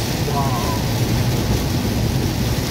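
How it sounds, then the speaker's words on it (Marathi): Dense, steady rain roars loudly and continuously, a heavy downpour drumming close by with no break, in the Konkan region. "जबरदस्त पाऊस"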